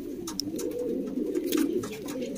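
A flock of fancy pigeons coos in a dense, continuous low rumble at close range, with scattered wing flutters and light clicks over it.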